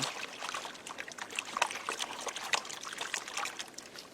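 Water sloshing and splashing steadily in a gold pan with irregular small slaps and trickles, close up and continuous throughout, no voices.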